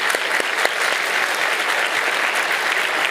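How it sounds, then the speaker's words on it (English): An audience at a university linguistics event claps steadily, a dense, even wash of applause filling the whole moment without a break. "Let's give them both a round of applause."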